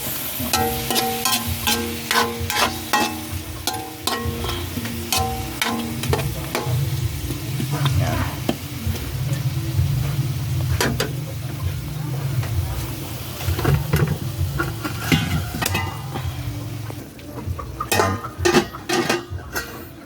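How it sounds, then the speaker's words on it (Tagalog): Chicken cooks in a pot, a steady sizzle and bubbling broken by metal clinks and stirring scrapes against the pot, fairly close, with a voice talking over it at times. "Tapos, pakuluan natin ng konti."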